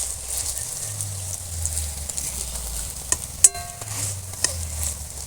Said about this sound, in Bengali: ধনে পাতার বড়া ভাজার জন্য কিন্তু খুব বেশি তেলের প্রয়োজন হবে না এরকম কম তেলেও খুব সুন্দর ভাজা হবে